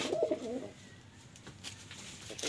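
Several pigeons coo in a loft, a low warbling call loud and close at the start, then softer coos and faint rustling for the rest of the stretch, with no talk.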